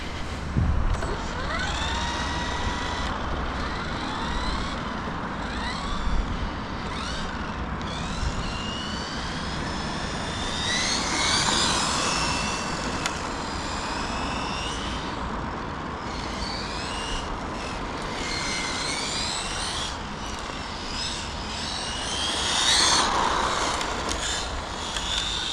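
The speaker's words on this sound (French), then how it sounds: "on entend les petits cailloux là" A Hobao EPX RC race truck drives over small pebbles, a steady high-pitched electric motor whine with gravelly crunching and skittering stones underneath, fairly loud and continuous with no talking.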